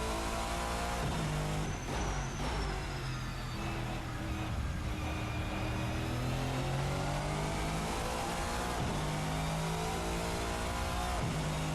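Race Sim Studio GT-M Lux V8 race car in the sim racing game Assetto Corsa, its engine loud and close as it revs up through the gears with rising pitch and brief dips at each shift.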